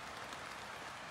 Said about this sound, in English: It started raining now, so lucky we put up our tarps.